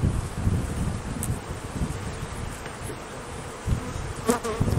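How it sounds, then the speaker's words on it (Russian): Angry honey bees buzz in a dense, steady drone at the hive while queen-rearing work goes on outdoors, with wind gusts rumbling against the microphone and a few brief louder passes close by. "Злятся пчелки."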